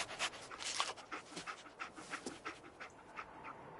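The dog companion Dogmeat in the video game Fallout 4 pants rapidly and rhythmically while tracking a scent, short quick breaths repeating close and fairly quiet with no talk over it.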